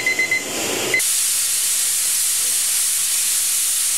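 Steam from a pressure canner processing wort, set with a 15-pound weight, bursts into a loud, steady hiss after a brief clatter of kitchen noise, then holds constant and close for several seconds.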